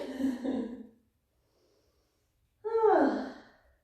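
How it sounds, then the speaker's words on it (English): Deep breathing during a yoga child's pose: two slow, audible breaths close to the microphone, each a soft rushing exhale or sigh, separated by a long silent pause; no talking. "we'll move into a child's pose. So you take a couple rounds of breath here"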